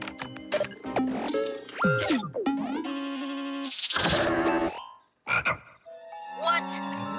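A cartoon robot dinosaur croaks like a frog instead of roaring, a string of loud, warbling electronic croaks and ribbits in bursts with brief gaps, mixed with playful cartoon sound effects.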